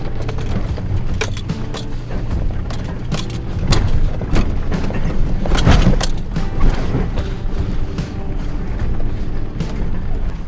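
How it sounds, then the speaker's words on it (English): An old Toyota Tacoma's engine drones steadily while it climbs a desert off-road hill, broken by repeated loud clunks and bangs, with a heavier jolt partway through. "all the clunks and bangs you can hear on my old truck"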